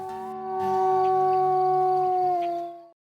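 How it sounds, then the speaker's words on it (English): Wolves at a wolf park howling together, several long, steady overlapping howls holding pitch for a few seconds and then stopping abruptly, close and clear with no talking. "Howling is one of the ways they mark their territory."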